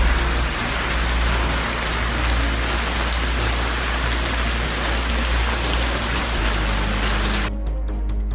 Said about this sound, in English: Heavy rains are causing havoc in central and southern Chile, and its capital, Santiago, has been flooded.